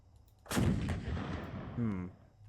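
A tank gun in the game Space Engineers fires once with a loud, close boom that rolls out into a long rumbling decay lasting a couple of seconds, and a second lower thud lands near the end.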